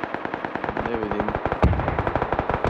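Rapid, sustained machine gun fire in a video game, a fast even rattle of shots that holds close and loud throughout, with no talking.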